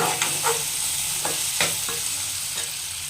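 Raw banana curry frying in a pan, a steady close sizzle with several sharp scraping stirs of a spoon breaking through at irregular intervals, no voices.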